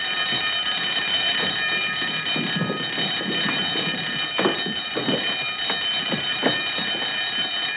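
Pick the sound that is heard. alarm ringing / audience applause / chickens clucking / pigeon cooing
alarm ringing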